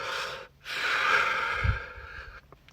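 A person takes a quick deep breath and then slowly exhales through tensed lips during a stress-relief breathing exercise, producing a long, close, breathy hiss that fades out.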